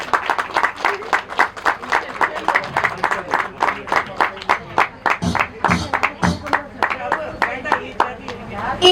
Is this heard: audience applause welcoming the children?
yes